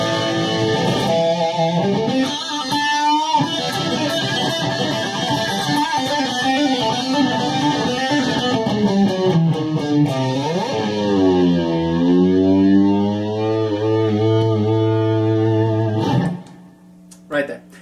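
Distorted electric guitar plays a lick, a loud continuous stream of fast tapped notes followed by a long whammy-bar dive bomb sweeping down in pitch, then a sudden stop.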